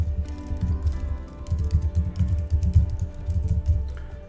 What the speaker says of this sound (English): then you need to type in the full URL